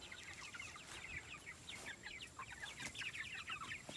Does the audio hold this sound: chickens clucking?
yes